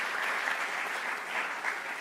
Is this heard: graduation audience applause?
yes